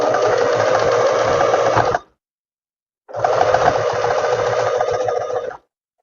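Sewing machine topstitching the lining along a square neckline of a tailored vest, running in two steady bursts of rapid needle chatter separated by a one-second pause, close and clear.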